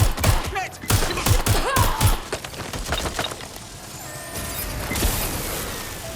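Gunfire in the video game Watch Dogs: Legion: rapid bursts of loud, sharp shots in quick succession, tapering into scattered impacts and mechanical clatter, with faint speech in the background.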